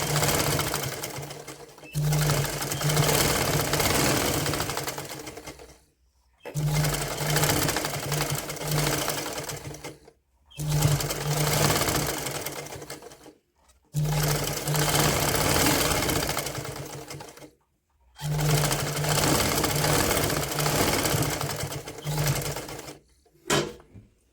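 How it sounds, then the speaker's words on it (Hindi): A sewing machine stitches over elastic on a child's woollen night suit in five long, steady, loud runs of close mechanical whirring, each broken by a brief silent pause, with no talking. "तो अब हमने लास्टिक के ऊपर सिलाई लगानी है।"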